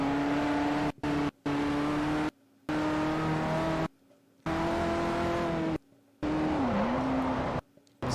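A 2009 Bugatti race car in Forza Motorsport 4 with a loud, steady engine tone that shifts pitch as it accelerates and drops, cut into bursts by abrupt silences, with a brief dip like a gear change.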